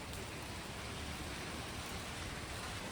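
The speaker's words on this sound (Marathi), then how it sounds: "खूप जास्त पाऊस." Heavy rain falls outside as a faint, even wash of broadband hiss with no distinct drops or gaps.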